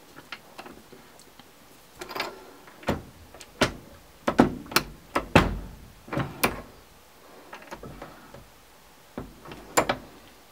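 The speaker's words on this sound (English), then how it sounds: "let's go ahead and put the die body in, but not far enough to get any crimp" A reloading die body for .38 Special brass is threaded into a press, giving a scattered series of sharp metallic ticks, clicks and scrapes, close and loud against a quiet room, with no talking.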